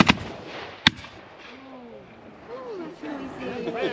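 About fifteen Civil War reenactors fire a musket volley: a couple of sharp cracks at the start and a single loud report just before one second, then rumbling echo and ambient noise.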